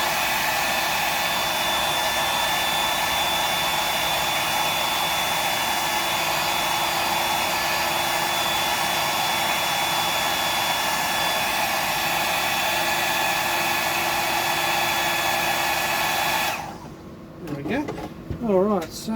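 A hair dryer blasts steadily while drying a tied fishing fly, a loud, continuous close whirring that runs for most of the clip before cutting off abruptly, with a voice briefly heard afterward.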